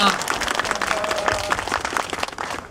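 A church congregation gathered for a parish yut-nori tournament gives a round of thankful applause, scattered claps in a loose rhythm mixed with a voice speaking over them.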